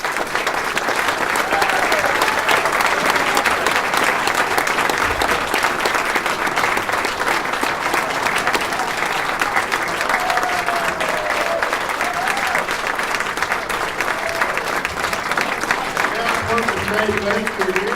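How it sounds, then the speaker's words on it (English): An audience at an amateur musical variety show in a manor hall breaks into sustained applause, dense clapping holding steady and loud for the whole stretch, with a few faint voices and cheers mixed underneath. "We need a round of applause for Cindy Winters"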